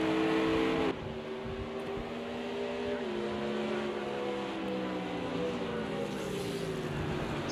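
Race car engines in Project Cars 2 at Silverstone, including a BMW GT car, drone steadily at close range, with pitch shifts as the cars change gear and a continuous engine roar throughout.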